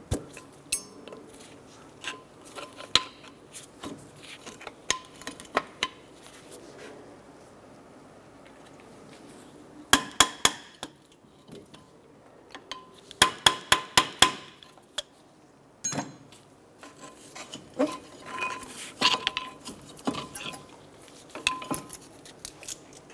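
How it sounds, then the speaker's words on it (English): Metallic clinks, taps and knocks as brake pads come out of a caliper on a 2006-2013 Chevrolet Impala, scattered sharp hits in irregular bursts, close and fairly quiet between them, with no talking. "I'm going to go ahead and remove our brake pads."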